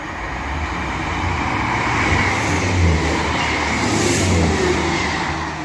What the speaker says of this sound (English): the next train to be coming through is a pairing of 158s from Wigan Walgate to Leeds